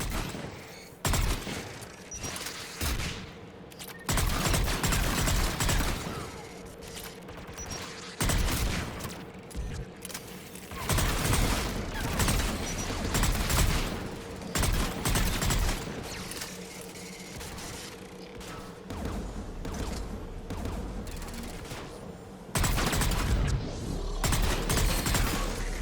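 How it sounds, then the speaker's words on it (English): An anti-aircraft gun in the video game Mass Effect 3 pounds away in heavy, sustained barrages, loud and close, with brief lulls between long stretches of booming fire and mechanical clatter. "There, the anti-aircraft gun."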